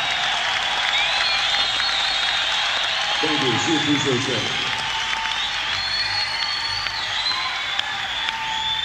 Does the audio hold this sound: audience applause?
yes